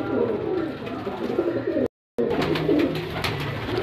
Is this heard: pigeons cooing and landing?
yes